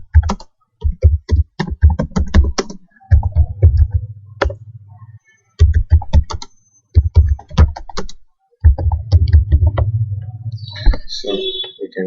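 Keys clatter on a computer keyboard in short, close bursts broken by brief pauses, each run of taps quick and crisp, with a low hum beneath some stretches.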